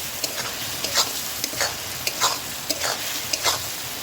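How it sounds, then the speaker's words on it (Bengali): Fried potatoes being stirred and sautéed in hot spiced oil in a pan, with a steady sizzle under irregular scraping strokes of a spoon, close up, no talking. "এবার ভেজে রাখা আলুটা দিয়ে দেবো। আলুটা ভালো করে কষিয়ে নেব।"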